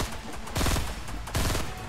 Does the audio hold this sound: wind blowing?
no